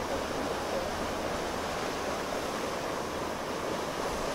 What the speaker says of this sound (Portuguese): mas tá ventando